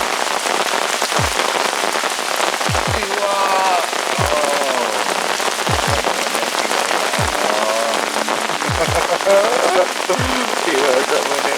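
Steady rain falls on a surface beside Selorejo reservoir during a Nile tilapia fishing outing, a dense constant patter with occasional faint voices and brief rising chirps behind it.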